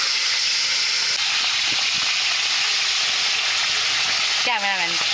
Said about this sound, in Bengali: তেল দিয়ে দিচ্ছি, মাছ ভাজবো।